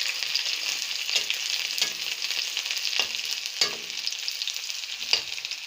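Chopped onion and crushed garlic fry in hot oil in a pan for an Assamese nil kachu dish, a steady close sizzle broken by several scraping stirs of the spoon.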